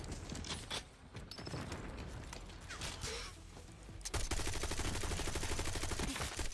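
Rapid gunfire in the Black Ops 6 video game, a dense burst of shots running under the mix and then swelling into a louder, sustained volley of automatic fire near the end.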